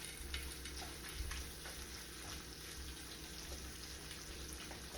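Ham sautéing in a skillet, a quiet, continuous frying hiss and crackle with a few faint stirring scrapes, close and steady, no talking.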